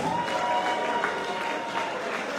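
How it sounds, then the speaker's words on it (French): Gala audience applauding Rachel Damis at a parish's tenth-anniversary celebration, a steady wash of many hands clapping that fills the room evenly for its whole length. "je vous demande d'applaudir encore une fois mademoiselle Rachel Damis"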